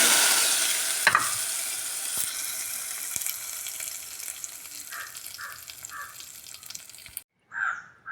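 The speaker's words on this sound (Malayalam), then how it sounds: "ഇതിനെ കറിയിലേക്ക് അങ്ങോട്ട് ഒഴിക്കും" A spice tempering of cumin seeds and dried red chillies in hot oil is poured into curry, giving a steady crackling sizzle that cuts off near the end, while a crow caws a few times nearby.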